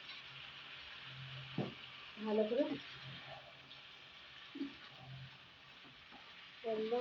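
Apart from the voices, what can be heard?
dried shrimp frying and being stirred in a pan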